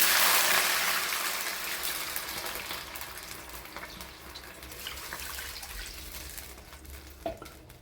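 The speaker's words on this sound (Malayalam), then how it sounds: "ഒരു 2 കപ്പ് വെള്ളം ഒഴിച്ച് കൊടുക്കുന്നുണ്ട് ഞാൻ" Two cups of water poured into hot oil in a pan for a rice-flour snack, a loud hissing splash at first that fades into a steady sizzling bubble, with a faint clink near the end.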